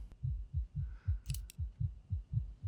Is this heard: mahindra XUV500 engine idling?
no